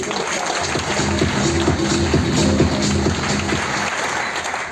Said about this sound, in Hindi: तो अब आप तालियां बजाएं इनके लिए